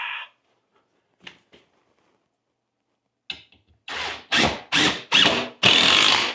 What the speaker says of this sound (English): I'm going to drill a few more holes.